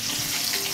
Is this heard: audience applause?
no